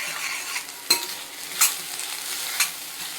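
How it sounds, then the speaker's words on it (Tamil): An egg is stirred into a mixture cooking in a pan, a soft sizzle running underneath while a spoon scrapes and taps a few times against the pan, close by with no speech. "நல்லா கிளறி எல்லாத்துக்கூடையும் சேர்த்து கிளறிடலாம்"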